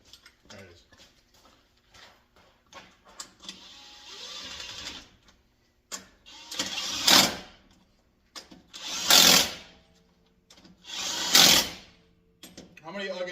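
An impact wrench tightens lug nuts on a 3/4 ton Jeep JK in three loud, close bursts spaced a couple of seconds apart, after quieter handling clatter.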